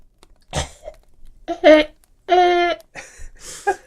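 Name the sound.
cough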